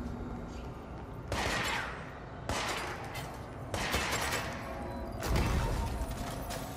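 Gunfire shatters crystals in the video game Control, with four heavy, noisy bursts of shots and breaking debris arriving about a second apart.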